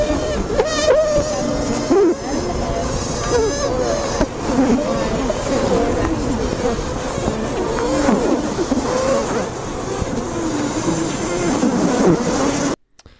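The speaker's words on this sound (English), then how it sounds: "these pipes are very similar to mammalian alarm signals" Honeybees piping an alarm while under attack, a dense buzzing hive with repeated high whistling pipes running steadily and fairly loud through most of the stretch before cutting off near the end.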